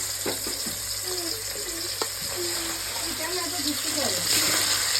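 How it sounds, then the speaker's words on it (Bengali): Meat frying in hot oil for biryani gives a steady, loud sizzle with bubbling and occasional stirring clinks, while a voice talks over it intermittently. "এরকম করে সবগুলো ভেজে নেবো আর ঢাকা দিয়ে রাখবো"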